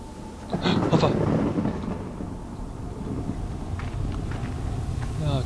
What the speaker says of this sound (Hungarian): Csak villámlott.